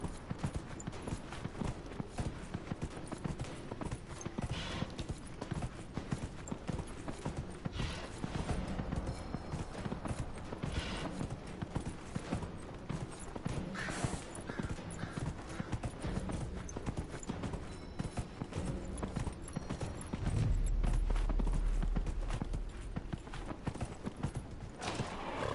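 Horse hooves clip-clopping steadily in Dragon Age: Inquisition as a dwarf character rides, a continuous rhythmic trot alone without talk.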